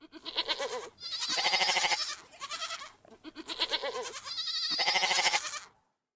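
Several goats, big billy goats among them, bleat loudly and in quick succession, long wavering cries stacked close together with short pauses between them and no talk.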